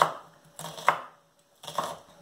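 A knife chops onion on a board, a few soft, muffled cutting strokes close by in quiet, for a couple tablespoons for vegan cashew-crusted cauliflower steaks.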